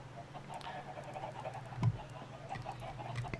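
Several video game chickens clucking and squawking in short bursts over a low steady hum, moderately quiet.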